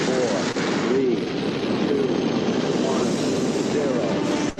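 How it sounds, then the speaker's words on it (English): An Apollo rocket's engines ignite at launch, a dense, continuous roar that fills the clip at steady strength, heard from a distance with faint voice traces woven underneath. "We have ignition sequence start. The engines are on."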